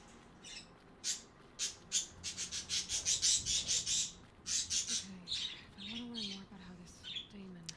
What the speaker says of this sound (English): I might have to let the birds out.